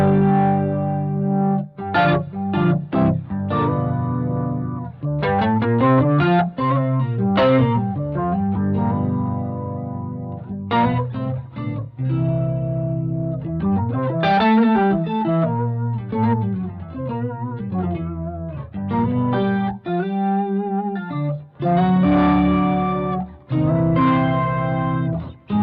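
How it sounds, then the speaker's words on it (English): A Boss GX100 overtone effect adds octave-like harmonics to an electric guitar, POG-style, playing loud melodic runs and chords with a shimmering, doubled tone and short pauses between phrases. "one is this overtone, and so this is kind of like a POG type sound really"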